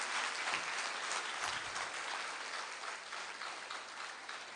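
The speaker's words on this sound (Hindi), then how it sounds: "देखो, आपने ताली बजाई ना" An audience claps continuously in dense, even applause that fades slightly toward the end, with no voices over it.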